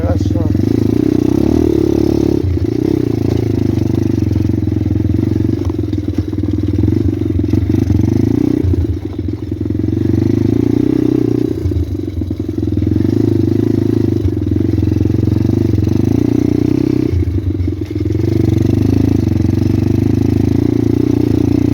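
A pit bike rides through a deep stream, its engine a loud, steady close drone that dips and swells a few times, with water churning beneath it.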